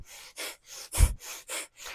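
Rhythmic breathing during a seated yoga twist, seven distinct breathy exhalations and inhalations in steady alternation, one stronger and deeper in the middle, close and fairly quiet with no talk.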